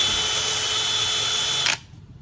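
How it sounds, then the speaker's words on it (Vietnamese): A DCD 996 three-speed power drill runs at high speed with a loud, steady whine, then stops abruptly near the end, leaving quiet room tone. "Khoan thì mình có DCD 996"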